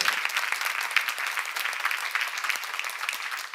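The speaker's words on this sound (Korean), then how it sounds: "박수야" A church congregation claps together during a sermon, producing a continuous bright wash of applause that holds evenly from start to finish without any voices on top.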